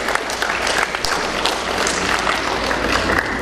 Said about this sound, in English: A round of applause to all such patients